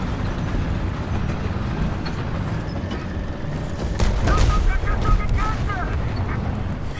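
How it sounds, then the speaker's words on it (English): Tank cannon fire and a blast in the War Thunder video game at rank 5, a sharp loud boom with rumbling decay near the midpoint over steady engine and battle noise, while a voice talks in the background. "What a great explosion."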